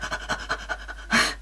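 A person pants in quick, rhythmic breaths to imitate a small dog during a breathing exercise, about eight short close puffs followed by a louder, longer exhale.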